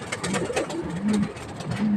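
Young pigeons coo softly in short low murmuring calls, close by, with a faint voice in the background.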